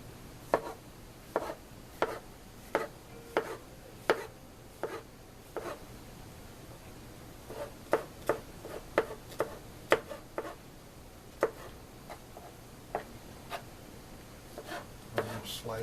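Knife slicing salad ingredients on a cutting board in a small extended-stay hotel kitchen, a steady series of crisp, sharp taps recurring about every half second, quiet and close.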